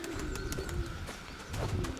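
A black pigeon coos close by in a dovecote on a rainy day, with repeated soft low calls over steady rain patter.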